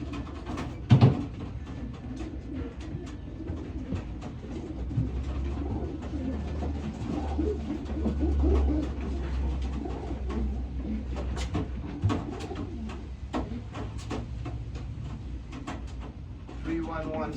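Pigeons coo softly among a loft of racing birds, low murmuring calls repeating through steady background noise with occasional clatter and people talking nearby.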